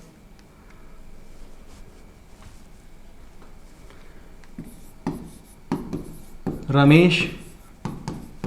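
Marker or chalk scraping across a classroom board during a Hindi grammar lesson, a few short strokes followed by a louder scrawling burst near the end, close and clear, with a teacher speaking around it.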